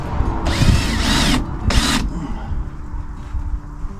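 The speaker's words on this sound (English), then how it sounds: "I just wanted to pre-drill these a little bit to help them hopefully keep from splitting." Power drill pre-drilling holes for Torx screws, two whirring bursts close by, the first about a second long and the second shorter, over a noisy outdoor background.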